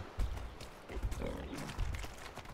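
A wild female cow grunts in a survival video game, low and rough, heard in short bursts at close range.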